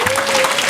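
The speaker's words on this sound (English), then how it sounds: "let's give these people a round of applause" A brief burst of audience applause for people who shared personal stories, dense and steady, heard only for a moment.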